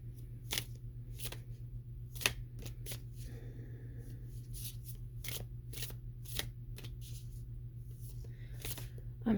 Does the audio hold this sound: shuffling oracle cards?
yes